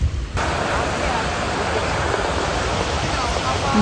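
Children's splash fountains at a water park give off a continuous, close, hissing rush of falling and spraying water that stays loud and even throughout.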